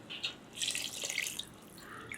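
Water poured into a pot of soaked jeeraga samba rice, a bright trickling and splashing stream that comes in short bursts, close by and without voices.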